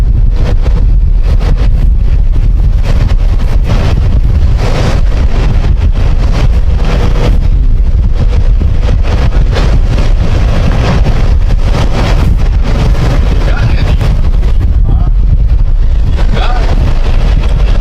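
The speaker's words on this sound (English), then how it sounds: "Look at that wind." Strong wind roars and buffets the microphone steadily during a Class A sailboat race on Anguilla Day, a loud, constant rumble that masks most other sound.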